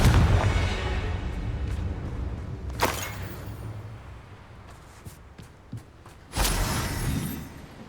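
A Confringo blasting spell explodes in Hogwarts Legacy on PS5, with a loud broadband burst at the start, a sharp crack near three seconds, and a second powerful blast near six and a half seconds over a rumbling game backdrop.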